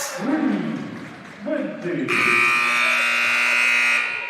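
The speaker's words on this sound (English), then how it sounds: "that buzzer signals the end of the third quarter" A loud, sustained electronic buzzer ending the third quarter of a basketball game blares from about two seconds in and holds steady to the end, following a stretch of excited commentary over crowd noise.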